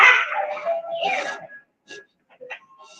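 A dog barks and yips close by, a cluster of sharp barks followed by shorter scattered yelps and whimpers, with a voice talking in between.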